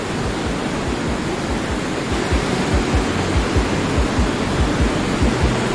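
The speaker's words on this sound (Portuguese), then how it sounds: "Lá, foi criada a Cachoeira Gullfoss, apelidada de Cachoeira Dourada da Islândia" Gullfoss waterfall in Iceland, where a glacial river plunges in two steps into a deep canyon. Its steady, dense roar of falling water is loud and unbroken throughout.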